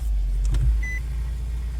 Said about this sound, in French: on utilise et on appuie le bouton et elle démarre